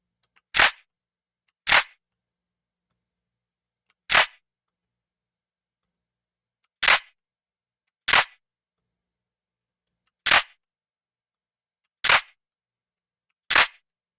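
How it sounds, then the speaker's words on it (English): Reversed sound effect made with a time-shift effect, heard as eight short, sharp, bright clicks at irregular intervals separated by silence, fairly quiet and with no talking. "And now we've got a little bit of like a reverse sound."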